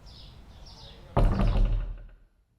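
A door pulled shut onto a porch lands as one loud, close thud with a brief rattle, then fades into quiet after faint ambient sound.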